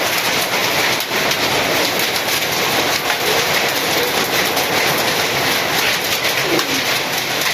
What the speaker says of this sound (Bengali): শিলাবৃষ্টি দেখছ এটাকে বলে শিলাবৃষ্টি